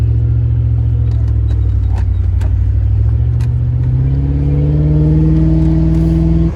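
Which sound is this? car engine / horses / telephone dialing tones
car engine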